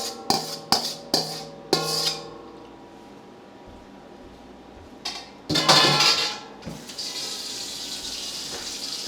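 Dishes and food containers clatter and clink in a home kitchen as food is put away, several sharp knocks early on, a quiet gap, then a louder burst of scraping and rattling with running water.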